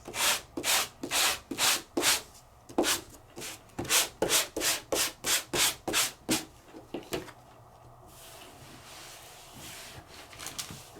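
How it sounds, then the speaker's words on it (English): Embossed paper with a vine pattern, pressed in an embossing folder, being hand-sanded in quick rhythmic back-and-forth rubbing strokes, close and fairly loud for about seven seconds before stopping into quiet room tone. "And let's sand that real quick."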